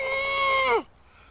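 A voice imitates a flammulated owl with one sustained, steady hoot that drops off sharply at the end, close and fairly loud.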